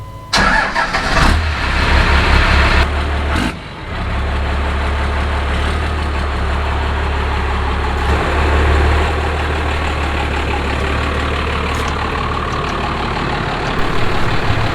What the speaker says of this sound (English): pull the truck out in the sun, and we'll let it chill for a little bit.